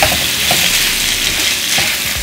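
Balsamic vinegar sizzling in a hot pan of butter garlic shrimp, a steady close hiss with faint stirring scrapes and occasional soft pops throughout.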